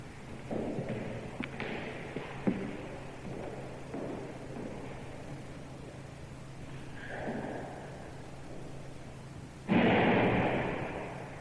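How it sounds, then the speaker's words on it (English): A sharp bang of a locked door flying open, then quieter shuffling, followed by a heavy slam near the end, echoing in a large empty room. "That was the sound of the locked door flying open and slamming shut"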